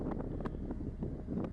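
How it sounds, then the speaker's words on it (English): Strong wind buffets the microphone on a riverbank, a low rumbling roar with irregular gusty thumps, fairly faint overall and heard alone. "It is really windy where they are, as we can see from the original sound"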